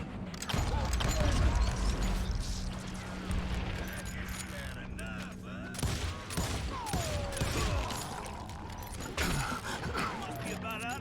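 Gunfire from the Call of Juarez Gunslinger western shooter, a dense continuous volley of shots over game music and effects, loud and sustained through most of the scene.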